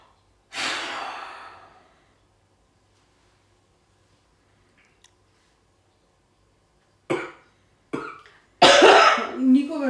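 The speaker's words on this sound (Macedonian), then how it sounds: "само кашлица" A woman with a cough of two or three days and no trouble swallowing coughs in a loud burst, then again in several harsher, closer bouts after a quiet pause.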